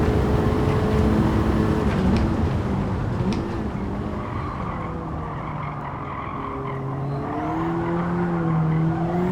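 A race car in Gran Turismo 7 shifting into fifth gear, its engine droning loudly with a wavering pitch while tires squeal and skid through the corners, steady and close, with no voices.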